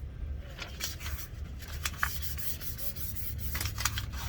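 Fingers rub a vinyl decal down onto an aluminum surface, producing a soft, continuous scuffing friction that swells and fades in short strokes, close and fairly quiet, with no talk.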